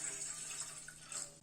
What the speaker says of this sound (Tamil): அதுல 2 டம்ளர் தண்ணி ஊத்திக்கலாம்.